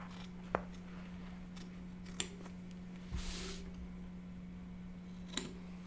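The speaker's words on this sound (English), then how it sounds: "we're going to just trim away the excess fabric as close to that stitch line as you can get" Applique scissors trim excess fabric beside a stitch line on an in-the-hoop Santa hand sanitizer holder, giving a few faint, sparse snips and clicks spaced seconds apart over a low steady hum, with no talk.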